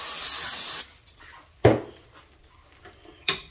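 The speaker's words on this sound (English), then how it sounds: "So we'll spray this pan again." Cooking spray is sprayed onto a crepe pan in one loud, hissing burst lasting under a second. Two short clacks of handling follow in a quiet kitchen.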